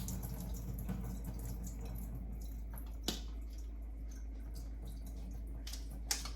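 Pozole ingredients are drained in a kitchen, giving a faint, continuous wash of running liquid with a couple of small splashy knocks.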